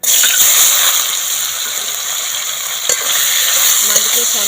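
Lata fish fry in hot mustard oil in a wok, giving a loud, continuous sizzle with stirring and scraping sounds, and no one speaking.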